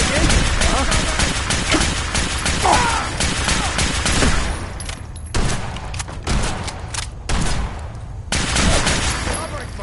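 Gunfire in the video game Fallout 4: rapid bursts of shots and sustained volleys, loud and close, broken by short pauses, with voices shouting over the shooting.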